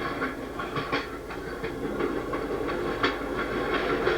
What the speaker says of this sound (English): we are listening to the sounds of a passenger coach riding along a section of the former Pennsylvania Railroad at about 50 miles an hour